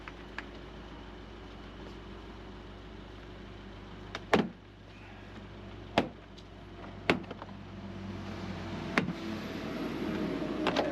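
Trim panel being pried off a car door, starting at the bottom corner: a steady low hum underneath, with several sharp, separate clip-popping cracks spaced a second or two apart, close and fairly loud.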